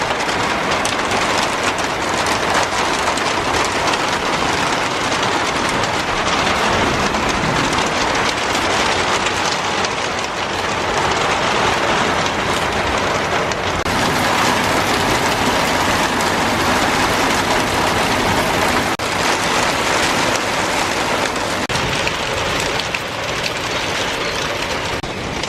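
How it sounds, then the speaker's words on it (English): Heavy rain pours steadily during a storm, a loud, dense and unbroken hiss of falling water close by that keeps going without any talking. "Oh crap, we're getting rained on."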